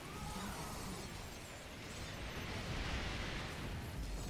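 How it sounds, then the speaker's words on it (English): Solar bombardment strikes from a StarCraft II co-op mission rumble continuously as a dense, noisy wash of blasts and crackling debris, steady and loud throughout without talk. "this is really good solar bombardment over here"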